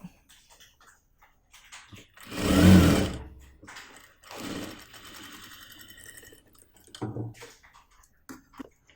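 A sewing machine stitches a curved armhole seam on a front-slit kurti sleeve, with one strong, steady run of stitching near the middle and shorter, lighter bursts before and after, and no talking.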